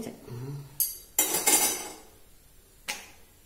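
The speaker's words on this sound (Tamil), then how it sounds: "இப்ப நான் ஒரு தோசைக்கல்ல வச்சிருக்கேன்" A metal dosa griddle being set down on a home kitchen stove, heard as a few sharp clanks and clinks, fairly close and otherwise quiet.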